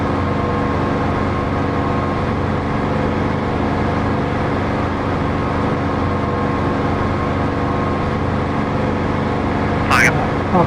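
An aircraft engine in the DCS flight simulator video game drones as a steady, loud, low hum, continuous and unchanging throughout, with a brief chirp near the end.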